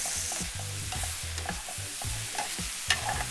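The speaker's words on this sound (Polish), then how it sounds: "Teraz dosypuję cebulę i czosnek." Onion and garlic fry with pork shoulder and coriander in a pan, a soft sizzle under rhythmic scraping stirs repeated at a quick, even pace.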